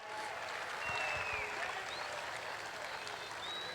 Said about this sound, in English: What about another big round of applause for the Kiwis?